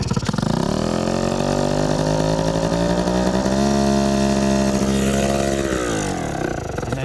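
Adly scooter engine running close and loud, a buzzy two-stroke-style drone that climbs in pitch as it revs, holds high, then falls back toward idle before the end.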